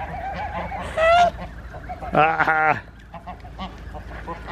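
Geese honk loudly in two bursts while being fed bread outdoors, the second a harsh, drawn-out series of honks; a person talks between and around the calls.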